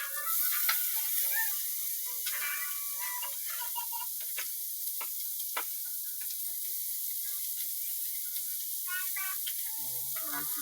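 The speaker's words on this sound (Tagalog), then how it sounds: "Tabi na natin gisa yung sibuyas, bawang." Chopped onion, garlic and ginger sauté in a little oil in a pan, a steady soft sizzle with scattered sharp ticks and crackles running throughout, fairly quiet.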